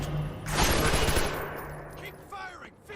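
Automatic gunfire in the game Splinter Cell Conviction: a short loud burst of rapid shots, then fainter scattered firing and rumble, with voices shouting.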